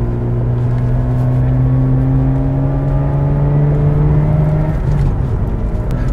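A sports car engine drones steadily with a whistling, whining tone that holds and shifts slightly in pitch while driving, loud and continuous throughout.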